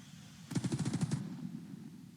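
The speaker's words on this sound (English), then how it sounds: "that LMG is functioning" An LMG firing in a war game: one short, rapid burst of about eight rounds, fairly faint, over a low background hum.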